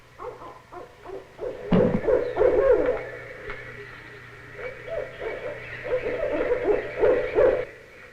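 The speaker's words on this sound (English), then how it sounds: "We're listening to the call of the barred owl." A barred owl hoots in a series of rhythmic, resonant calls, fairly close and loud, swelling in bursts with a short quiet gap between phrases and a steady low hum underneath.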